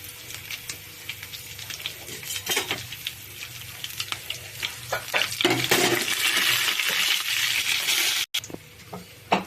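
Cumin, chana dal, urad dal, garlic and dried red chillies frying in hot oil for a tempering, a steady close sizzle with crackles and a few stirring scrapes, no talking.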